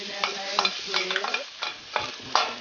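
Garlic dropped into about a tablespoon of butter or margarine in a pan, with a steady close sizzle and bursts of stirring and scraping, no voices.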